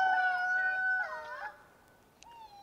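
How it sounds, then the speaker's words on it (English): A backyard rooster crows once at moderate distance in a home garden, a short, fairly quiet call that fades out and leaves near silence. "That was Severus's crow."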